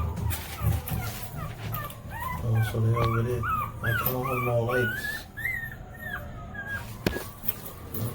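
A female dog in heat whimpers and yips in a series of high, wavering cries near the middle, while someone talks nearby over the background noise.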